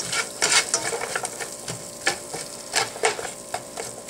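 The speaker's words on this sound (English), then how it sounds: "give it a good stir around, make sure everything's oiled up, every bit of those onions got a little oil on them" Onions sizzle in hot oil in a pan as a utensil stirs them, a steady close frying hiss broken by repeated scraping strokes, with no voices.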